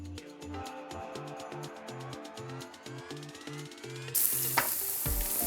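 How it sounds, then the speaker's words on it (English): Mushrooms frying in a pan for vegan spring rolls, a steady sizzle under rhythmic background music that grows brighter and hissier toward the end. "We're going to go ahead and toss our mushrooms in there."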